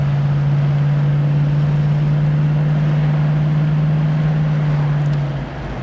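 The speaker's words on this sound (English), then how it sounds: "Car has good acceleration" A 1973 Ford Mustang convertible accelerating on the road, its engine a loud, steady droning hum that holds its level for several seconds before easing off slightly at the end.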